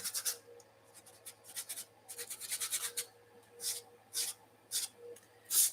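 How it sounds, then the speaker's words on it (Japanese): Sandpaper rubs over the paper surface of a painting coated with fixative that has not fully dried, making close, dry rasping strokes in irregular bursts with short pauses between them and no talk. "少し紙やすりで 磨いてあげたり。"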